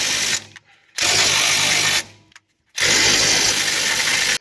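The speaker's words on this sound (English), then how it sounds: "So we got 15 seconds of impacting." An impact wrench hammers at a 22 mm knuckle bolt on a rusty 2004 Toyota Sienna front suspension, with three loud, sustained bursts separated by brief pauses, close up and with no talking.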